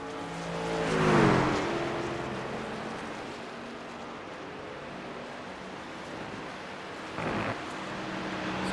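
A race truck in the All-American Pro Truck Series roars past on the racetrack, a loud sweeping pass that fades into a long wash of track noise, followed by a brief second burst from another truck.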